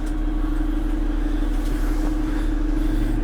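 The diesel engine of a Hyster H210HD forklift, rated for 21,000 lb, idles just after starting, giving a loud, steady, low rumble close by with no break across the whole stretch.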